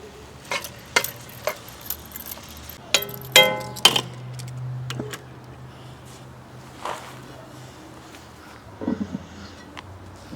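Onions slid into simmering beef broth in a pan on a Weber kettle grill give a brief wet clatter and scrape, then a steady low sizzle and bubble with a few soft clinks.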